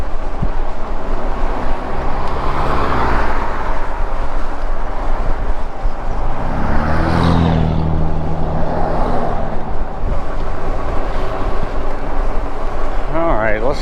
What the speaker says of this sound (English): bunch of cars on the road today